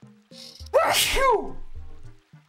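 A loud sneeze erupts after a short inhaled build-up, with a quiet voice before and after it, heard during a casual Animal Crossing play session.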